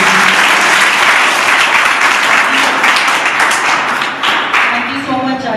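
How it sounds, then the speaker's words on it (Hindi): Loud, sustained applause from an audience at a special radio program event, a thick wash of clapping that holds steady and dips slightly near the end. "प्लीज सर तारीफ और जोरदार तालियां हो जाए।"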